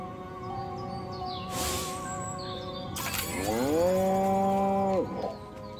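A cow in the game Destroy All Humans lets out a long, loud, drawn-out moo that bends upward and holds before cutting off, preceded by a sharp crash and a buzzing electronic effect, with no speech.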